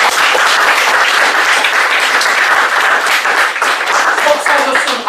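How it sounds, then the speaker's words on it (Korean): An audience of mature adult students at a leadership talk gives sustained, full applause, a thick crowd of clapping hands that stays loud and even throughout. "진심으로 존경과 찬사의 박수를 보내드립니다"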